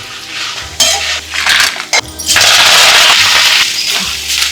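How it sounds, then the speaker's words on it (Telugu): Lentils, cumin, coriander, dried red chillies, asafoetida and tamarind roast in a little oil in a home kitchen pan, with steady sizzling and a utensil repeatedly stirring and scraping the spices, close and fairly loud with no talk. "కొద్దిగా నూనె వేసుకోవాలి పప్పు వేసుకోవాలి జీలకర్ర ధనియాలు ఎండుమిర్చి కొద్దిగా ఇంగు వేసుకోవాలి చింతపండు వేసుకొని వేపుకోవాలి"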